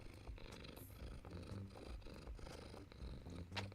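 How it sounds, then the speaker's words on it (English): A cat purrs softly and steadily close by, a low rhythmic rumble pulsing with each breath. "Can you guys hear him purring?"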